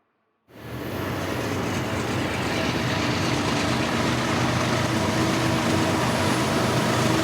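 An eastbound freight train rolls out of Barstow on Track 1 along the Needles Subdivision, starting abruptly and holding a loud, broad steady rumble of wheels and engines, close by with no voices.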